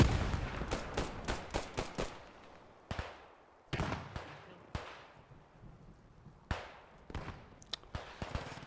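Frag grenade blasts and gunfire in the Post Scriptum military game: a burst of rapid sharp cracks, then spaced loud bangs with decaying tails, fairly faint overall.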